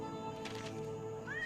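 A kitten meows in the mobile survival game Westland Survival with short, thin cat cries over a steady droning game soundtrack, moderately quiet and with no talking.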